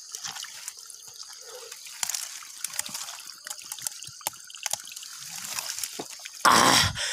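Fresh water trickles and drips close by in a forest setting, with irregular small splashes and dribbles throughout, then a louder burst of splashing near the end.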